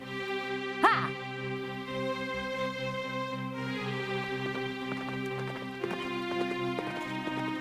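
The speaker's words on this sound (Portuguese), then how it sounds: "assustando o cavalo para que corresse o mais rápido possível" A horse runs off with a quick clip-clop of hooves over a sustained musical drone, which opens with a sharp accent and has a few brief thumps and a short vocal burst mixed in.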